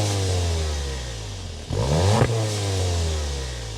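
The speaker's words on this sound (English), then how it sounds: "start it up so you can hear that TSI exhaust note" A 2025 Volkswagen Jetta GLI with a TSI engine cranks and fires up midway, its exhaust briefly flaring before settling into a steady low idle, heard from nearby.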